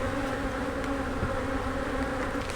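Honeybees from a strong, opened hive buzz steadily and densely at close range, a continuous angry drone with no talk over it.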